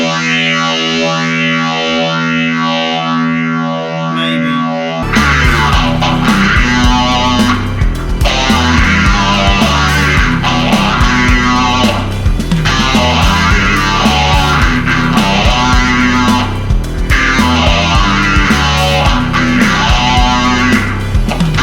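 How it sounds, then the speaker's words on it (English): Electric guitar riff through a Twinote British Dist distortion, Tone City phaser and reverb: a thin clean chord rings first, then loud, heavily distorted chugging riffs with swirling phased movement run steadily to the end. "we're going to riff more of a heavier distortion thing"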